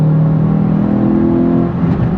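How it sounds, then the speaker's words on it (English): A Suzuki Swift Sport with variable valve timing revs high, a loud close engine note climbing into a sustained strained whine with no voices. "when it does get up the rev range, you can tell it's got the variable valve timing because you hear it start screaming"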